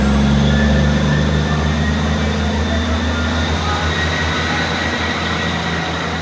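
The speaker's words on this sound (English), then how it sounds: "165136 and 166206 on a Great Western Railway service to Cardiff Central from Portsmouth Harbour, departing out Southampton Central" Great Western Railway units 165136 and 166206 pulling out of Southampton Central, a steady loud diesel engine drone with rumbling wheels and a low hum, close by and continuous.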